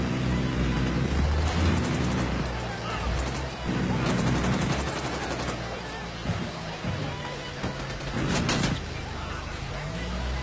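Gunfire from the video game Ghost Recon Wildlands on PS4 comes in several loud, rapid bursts separated by short pauses, with vehicle and ambient noise in the gaps between them.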